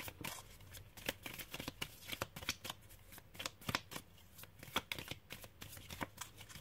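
Tarot cards being shuffled and drawn during a reading: a rapid, steady series of crisp riffling snaps and soft slides, close and fairly quiet, with no talk over it.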